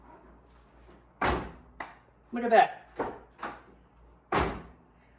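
A Porsche 911 door with newly repaired hinges is swung shut several times, giving solid thuds and slams spaced a second or so apart, close by, with someone speaking briefly between closes.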